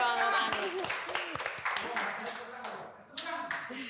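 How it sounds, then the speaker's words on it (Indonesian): A few people clap their hands in short, scattered bursts, moderately close, mixed in with ongoing chatter and talk from a host. "Tepuk tangan dulu dong."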